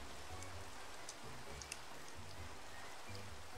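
Steady hiss of rain falling in the game Minecraft, a soft continuous patter with faint scattered drop ticks, quiet and even throughout with no talking.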